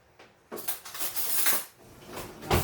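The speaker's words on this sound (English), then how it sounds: "Let me get a smaller spoon." Metal cutlery clinking against dishes as a smaller spoon is fetched from a kitchen utensil holder, a short series of nearby rattles and clanks.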